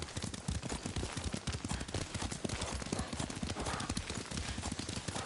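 Horse hooves clip-clop in a steady, fast riding rhythm in Ghost of Tsushima, loud and close throughout, with faint background game sounds and possible soft voices underneath.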